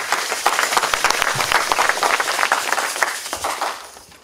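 A church congregation applauding together, dense and sustained clapping filling the space for several seconds before it gradually tapers off.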